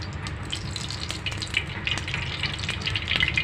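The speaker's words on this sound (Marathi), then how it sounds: "तेल गरम झाल्यानंतर त्यात एक एक मच्छी ठेवावी तव्यावर" Hot oil sizzles and crackles steadily as pomfret fish fry on a flat griddle, with fine spitting pops that grow slightly louder toward the end, with no voices.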